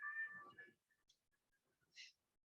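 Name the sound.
cat meowing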